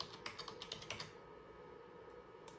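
Rapid typing on a computer keyboard while entering an IP address into a camera recorder setup: a close, even patter of keystrokes, a pause, then a final key press.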